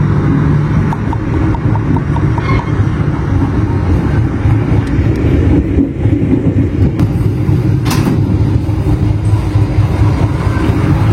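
An Airlangga passenger train pulls away from Tegal station, heard from inside the carriage as a loud, steady low rumble of wheels and running gear with faint rattles and a brief clack.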